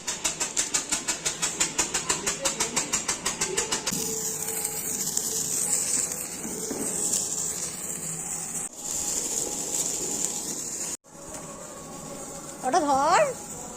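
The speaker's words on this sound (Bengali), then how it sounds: "এটা তো জেনারেটরটা। হ্যাঁ, আওয়াজ হয় এটা।" A generator runs outdoors on a Kali Puja festival night, first with a fast rhythmic chugging pulse for a few seconds, then settling into a steady mechanical drone and hiss.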